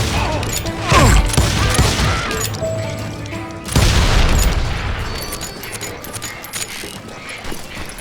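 Heavy gunfight in the Western shooter Call of Juarez Gunslinger, with two big booming blasts and crashes over continuous gunfire and clattering impacts, loud and close throughout.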